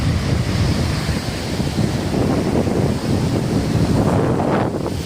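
Surf and gusting wind at Pattinapakkam beach, a steady rush of breaking waves with heavy wind buffeting the microphone, close and loud throughout.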